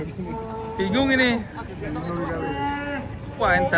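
Cattle at a livestock market, including black cows being unloaded from trucks, low drawn-out moos rising and falling over a busy background of people and handling noise.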